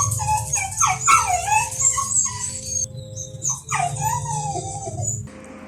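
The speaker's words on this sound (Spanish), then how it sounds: "oyeron cómo los perros empezaron a aullar" Dogs whimpering and yipping in a drawn-out, wavering howl-like chorus, fairly close and continuous with rising and falling cries.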